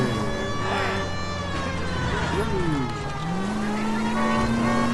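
Game car engine from LA Noire, a steady drone with a rising rev partway through, carried along under music and effects, with someone talking over it at times.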